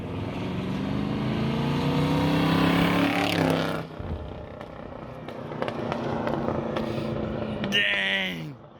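A 1955 Chevy hot rod engine roars loudly at high revs for several seconds, then drops off and idles with scattered exhaust pops and crackles, with people talking faintly around it.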